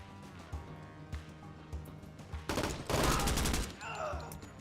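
Rapid video game gunfire crackles inside a room, starting as scattered distant shots and building to a loud, dense burst of automatic fire before tapering off.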